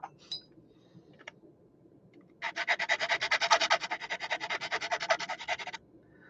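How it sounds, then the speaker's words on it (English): A plastic model kit part from a Bristol Beaufort kit being sanded: after a few soft clicks, a run of rapid, rhythmic back-and-forth rasping strokes lasts about three seconds, close and fairly loud, with no speech. "we've got a little bit of sanding to do there"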